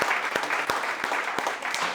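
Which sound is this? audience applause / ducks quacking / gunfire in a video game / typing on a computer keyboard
audience applause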